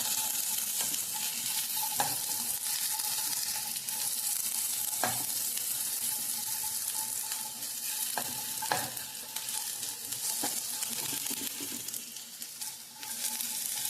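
Small onions sauté in ghee with a steady, close sizzle, interrupted now and then by sharp scrapes of a spoon stirring the pan.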